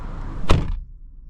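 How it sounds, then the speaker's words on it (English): A single solid car door slam on a 2023 BMW X3 xDrive30i, a sharp heavy thud followed by a short dull resonance, close by with nothing else around it. "Now, door slam test."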